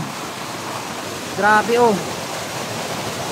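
Water in a forest rushes and overflows in a steady broadband roar that runs the whole stretch, with a man's brief exclamations rising over it near the middle.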